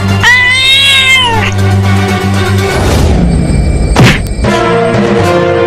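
A cartoon cat meows loudly up close, a long drawn-out cry followed by further yowls, with a short noisy burst in between.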